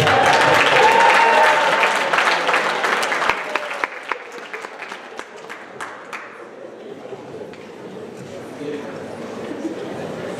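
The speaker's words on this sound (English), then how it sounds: "Come on up, round of applause, guys." Loud audience applause fills a school assembly hall, sustained clapping that fades after a few seconds into scattered claps and murmuring chatter from the crowd.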